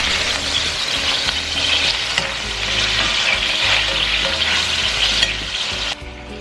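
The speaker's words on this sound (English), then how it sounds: "sear our chuck for about 4 minutes on each side" Beef chuck sears in a hot pan for pho broth, a loud, steady sizzle and crackle that holds for several seconds before dropping sharply near the end, with no talking.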